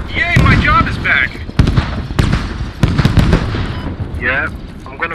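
A clone mortar fires repeatedly in the Star Wars game Galactic Contention on Geonosis: several sharp, loud launch thumps and blasts spread over a few seconds, with voices talking between them.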